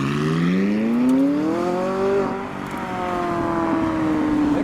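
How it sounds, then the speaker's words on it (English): McLaren 675LT Spider pulling away from a car show after easing over a speed bump, its engine rising through a loud, close rev, dipping at a gear change, then droning on as it departs. "So first up is the 675 LT Spider, so negotiating the speed bump first, and then we can drive on home"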